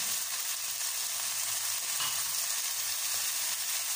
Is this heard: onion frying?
yes